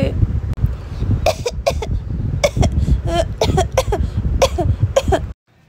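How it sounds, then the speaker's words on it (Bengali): Repeated coughing, a series of close, harsh bursts in uneven clusters, with some throat clearing between them. "কাশি হচ্ছে কেন?"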